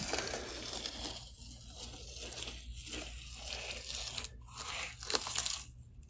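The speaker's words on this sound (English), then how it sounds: "It's such a satisfying sound to hear that tape kind of come off." Masking tape being slowly peeled off the edge of a painting, a faint, continuous crackling tear with brief louder rips near the end, heard close up with no talking.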